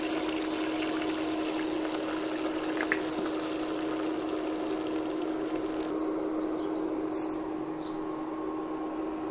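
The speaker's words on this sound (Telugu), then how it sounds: "నేను కొన్ని వాటర్ పోస్తున్నాను" Water poured into a bowl of kodo millet and jowar flour: a steady, continuous pouring hiss with a constant low hum underneath and faint chirps, no talking.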